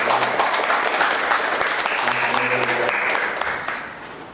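Presenters at a scholars' sharing event receive applause from the audience: steady clapping throughout, with voices talking underneath, fading near the end.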